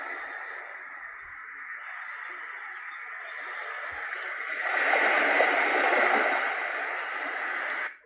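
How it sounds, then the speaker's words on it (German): Ocean waves from a sleep-aid soundscape wash in a steady, soft rushing roar that swells louder midway, then settles and cuts off at the end, with no voices. "Dann habt ihr hier so ein Meeresrauschen."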